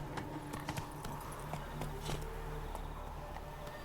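Roach the horse trots along in Witcher 3, its hooves clip-clopping in a steady, quick rhythm at moderate distance over a low ambient rumble, with faint insect buzzing around.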